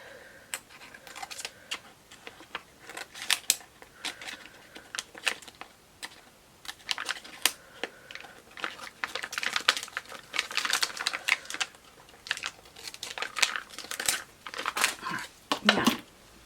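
Paper being cut out for a scrapbook layout, with a run of close, crisp snipping and crinkling sounds in irregular bursts, some soft rustling between them and no talk over it.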